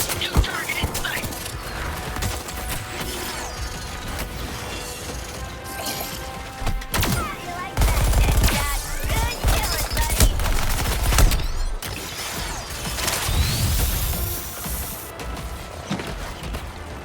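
Gunfire bursts and impacts in the Suicide Squad Kill the Justice League video game: a continuous busy mix of rattling shots, crashes and mechanical clatter at steady loudness throughout.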